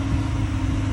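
A 2023 Ford F-150 Lariat engine idles after an automatic start, a steady, quiet low hum that holds evenly throughout with no talking.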